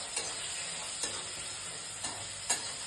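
Two spoonfuls of ginger-garlic paste are stirred in a hot pan with a spatula: four evenly spaced scraping taps over a soft, low sizzle, close by and fairly quiet.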